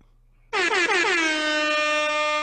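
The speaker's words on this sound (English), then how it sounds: "The obligatory air horn." A sudden loud air horn blares after a moment of quiet, wavering briefly at the start before holding a steady, brassy tone.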